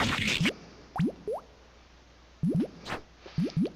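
Quick cartoonish gulping and plopping sounds of a creature eating a meal in the video game Shantae: Risky's Revenge come in short bursts with rising pitch, several in a row with pauses, close and clear.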